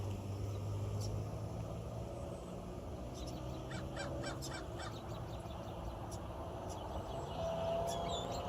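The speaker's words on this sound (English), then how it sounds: "This crow is saying, this is my territory. But these seagulls are not hearing to it" Crow cawing repeatedly beside a road while seagulls call, with distant traffic humming steadily underneath and no talk.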